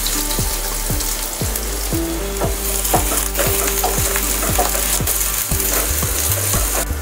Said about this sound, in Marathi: मोहरी छान फुलल्यानंतर आपण बारीक कापून घेतलेला कांदा टाकायचा आहे।